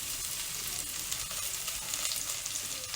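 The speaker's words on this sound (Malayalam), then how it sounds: "ഒരു സവോള അരിഞ്ഞത് ഈ കറി വെക്കുന്ന ചട്ടിക്കുള്ളിലേക്ക് ഇട്ട് കൊടുക്കാം" Sliced onion frying in hot oil in a curry pan with curry leaves for a sardine curry, a steady, close, crackling sizzle that holds even throughout with no voices.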